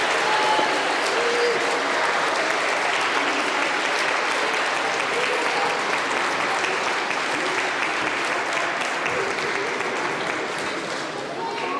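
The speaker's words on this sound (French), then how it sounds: "je vous invite à les applaudir bien fort." A large audience at a children's Christmas party in a Paris church parish hall applauds loudly and steadily for the volunteers, a dense, sustained wash of clapping that holds at full strength for the whole stretch and eases only slightly at the end.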